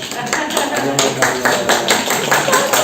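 A group of children claps in a quick, uneven patter at close range, with voices talking over the clapping throughout.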